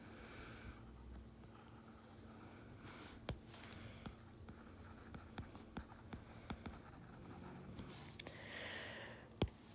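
A diagram of a galvanic cell with a salt bridge is drawn by hand, with faint scratchy pen strokes and scattered soft taps over a quiet room hum.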